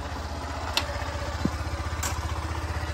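A motorcycle idles or rolls slowly during a riding exam, its engine a low, steady pulsing putter close by, with a couple of faint clicks.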